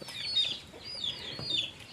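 Chickens cluck in short repeated bursts outdoors on a rural hillside farm, fairly close, with soft background ambience and no talking.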